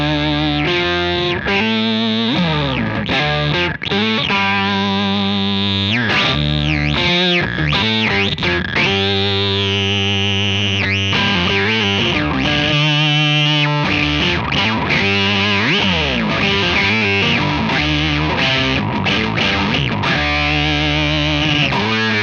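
Electric guitar played through a Beetronics Zzombee Filtremulator pedal blended with the clean signal, loud and continuous, with sweeping filtered, distorted chords and swirling tremolo movement, no talking.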